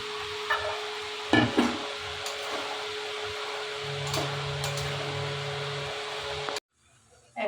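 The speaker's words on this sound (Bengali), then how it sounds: "মশলা দিয়ে তেল ছেড়ে দিয়েছে এখন কুমড়োটা দিয়ে দেবো সেদ্ধ করা চানাটাও দিয়ে দেবো" Pumpkin and boiled black chickpeas go into hot spiced oil for a Punjabi-style curry, giving a steady close sizzle with stirring clatter before cutting off into near silence at the end; no talk.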